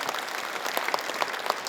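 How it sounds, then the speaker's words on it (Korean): An audience at a forum on hosting the 2025 APEC summit in Gyeongju claps warmly, dense, even applause filling a hall throughout without a pause. "여러분 다시 한번 따뜻한 박수 보내주시면 감사하겠습니다"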